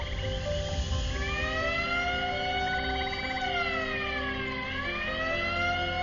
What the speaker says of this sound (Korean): 이건 경보?